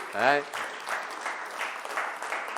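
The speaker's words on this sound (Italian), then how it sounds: "noi mandiamo un applauso al derby" Studio audience applause starts after a short voiced exclamation, then continues as a moderate, even clatter of clapping hands to the end.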